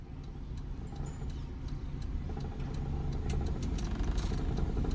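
A car idles steadily in reverse during a driving lesson, its low, even engine rumble holding close and continuous throughout with a slight rise toward the end.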